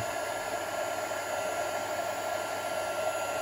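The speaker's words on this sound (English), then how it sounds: "pop the gun on again, the heat gun" A heat gun blows steadily on stamped card to melt embossing powder, a constant loud whooshing hiss of hot air that holds even throughout, with no talking.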